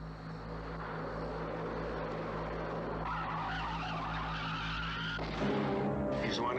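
Car tire blowing out and skidding, heard as a loud sustained roar and screech that builds and shifts partway through, then cuts off into a different, higher whine near the end, with no voices.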